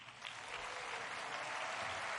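Audience applause at a Republican political convention in Charlotte, a dense, steady wash of clapping from a large crowd that swells slightly and holds without break.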